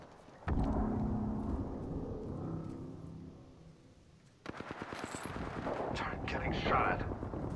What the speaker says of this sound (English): Getting shot. Firing.